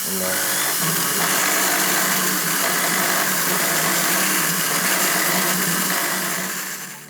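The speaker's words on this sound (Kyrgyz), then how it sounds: "Бетин ушинтип шлифовать этип, бетин тазалап," A power tool sands and polishes the surface of a handmade silver chain, giving a loud, steady high-pitched whirring drone that holds evenly for about seven seconds and then tapers off.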